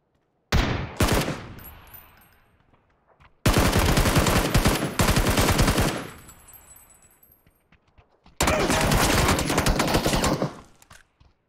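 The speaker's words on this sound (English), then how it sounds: "He was trying to one-shot me with his fucking shotgun" Shotgun blasts in a PUBG firefight inside a warehouse, three sharp, loud bursts of shots separated by quiet gaps, each followed by a fading tail.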